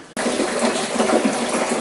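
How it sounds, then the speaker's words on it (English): Water gushes steadily into a 55-gallon storage barrel being filled for long-term water storage, a continuous loud rushing pour that starts abruptly and runs without pause, close and alone. "let's add some water"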